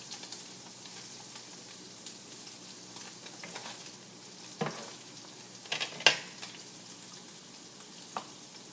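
Vegan menudo ingredients, tofu among them, browning in hot coconut oil give a steady low sizzle and crackle, with a few louder pops and stirring scrapes rising over the frying.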